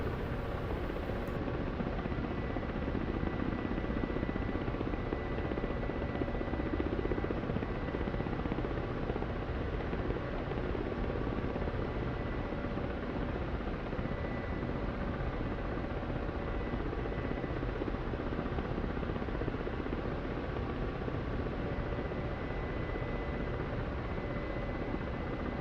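A Ka-50 Black Shark helicopter flying over the Syria map near Haifa in the DCS combat simulator gives a steady, even rotor and turbine drone that holds unbroken for the whole stretch with no voices.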